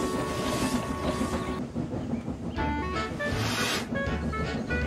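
A cartoon steam engine from Thomas and Friends puffs along the railway with a steady clickety-clack of wheels on track, close and fairly loud beneath a musical score.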